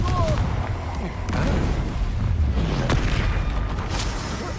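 A Confringo fire spell explodes during a Hogwarts Legacy fight, a heavy booming blast amid dense in-game battle noise with rumbling low end and crackling effects, while voices talk over it.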